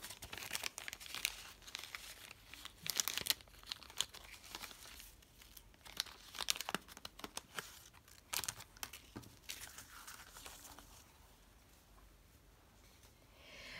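A plastic bag holding die-cut paper shapes is opened and handled, giving close crinkling and tearing rustles in uneven bursts, with no talking.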